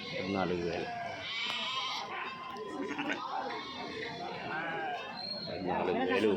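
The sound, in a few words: lambs and sheep bleating at a livestock market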